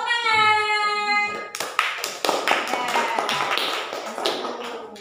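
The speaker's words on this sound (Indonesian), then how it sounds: "Ya, tepuk tangan." Applause breaks out in a classroom after a student group answers correctly; scattered hand claps start about a third of the way in and keep going steadily at close range, with a voice heard just before.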